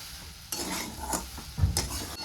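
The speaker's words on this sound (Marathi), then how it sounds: "तर आता ही साखर छान अशी ह्याच्यासोबत मी मिक्स करून घेते." Sugar being stirred into potato and semolina shira in a pan, with a spoon scraping and clinking against the metal in a few uneven strokes, close up and moderately loud, with no talking.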